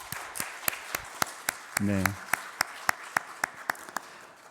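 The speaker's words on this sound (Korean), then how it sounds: "우리 이분들 위해서 우리 한번 박수 한번 할까요?" A church congregation at a Sunday service claps in a sparse, steady rhythm of distinct claps, with a brief spoken word partway through.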